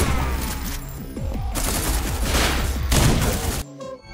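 Rapid turret gunfire rattles out in dense, fast volleys during a firefight in the cyberpunk-style shooter SlavicPunk: Oldtimer. The loud bursts pause briefly, resume, then cut off abruptly at the end.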